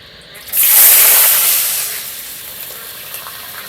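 Potatoes dropped into hot oil with whole spices, green chilli, cardamom, cinnamon and bay leaf for vegetarian khichuri: a sudden loud burst of sizzling that swells, then settles into a softer steady fry.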